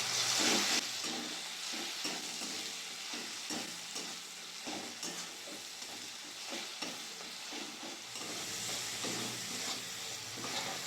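Spices with slit green chili, Kashmiri chili powder and sugar sizzle in hot oil in a kadai while being stirred, a steady moderate frying hiss broken by repeated soft stirring scrapes, with no talking.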